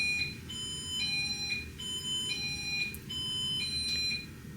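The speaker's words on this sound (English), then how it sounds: "when the wind blows really hard, something is making the alarm go off" A wind-triggered alarm sounds outdoors in repeated pairs of shrill high electronic beeps, coming in regular bursts over a low rumble of blowing wind.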